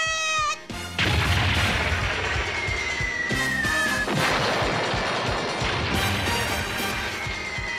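Anime cannon fire, a loud barrage of booming blasts and crashing impacts that follows a short sharp shout, with whistling tones sweeping over the continuous roar.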